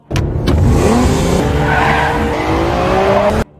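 A car tears along at high speed with tires skidding and squealing, a loud continuous screech over the engine from start to finish, then an abrupt stop.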